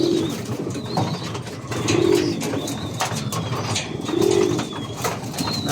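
Pigeons kept by a fancier cooing in soft, low repeated phrases at a steady interval, near and moderately clear over a rustling outdoor background.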